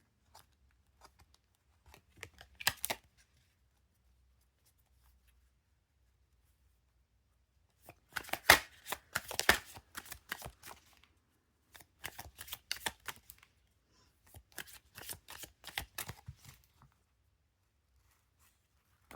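Tarot cards are shuffled in several quick riffling bursts, close and crisp, separated by quiet gaps.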